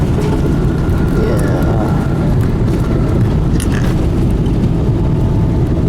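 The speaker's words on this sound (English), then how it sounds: "There's the runway, and let's check out this landing." A Cathay Pacific airliner touching down on a runway, with a loud, steady broadband roar of engines and rolling noise filling the whole stretch, heard from inside the cabin, plus a brief spoken word.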